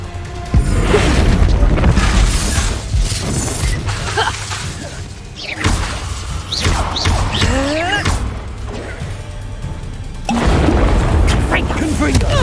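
A Confringo fire spell blasts during a Hogwarts Legacy duel, one of a string of booming, crashing explosions and whooshes that keep coming over twelve seconds, loud and close, with voices shouting spell names among the bursts.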